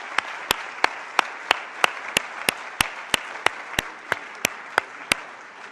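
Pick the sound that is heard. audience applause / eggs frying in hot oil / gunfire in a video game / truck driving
audience applause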